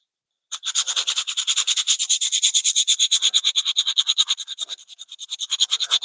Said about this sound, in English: Especially this 60 grit stuff, it just peels the wood off.